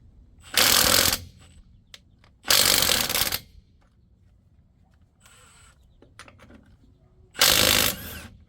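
A power tool with a lug nut socket loosening a lug nut, three loud bursts of rapid impact hammering, each lasting under a second, separated by quieter pauses with faint clicks.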